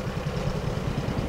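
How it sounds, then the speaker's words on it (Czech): Engine of a D1 tank in World of Tanks, a low, chugging tractor-like drone with a steady rhythmic pulse, close and continuous, lasting only a moment. "Má to i zvuk jak traktor."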